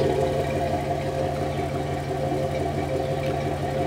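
A 1996 Dodge Ram 2500 with the 5.9 engine and a welded Thrush muffler idles close by, giving a steady, deep, low rumble with an even pulse and no talk over it.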